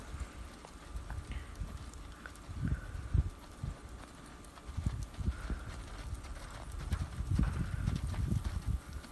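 A horse lopes and then transitions down to a slower lope, giving a series of soft, muffled hoofbeats in an uneven rhythm that heave up and fade as the pace eases, heard at a distance with no talk.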